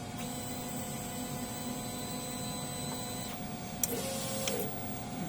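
A DTF printer runs a nozzle check, giving a steady mechanical hum and whir with tonal motor lines, then a brief clack and a louder carriage pass near the end, close and fairly quiet.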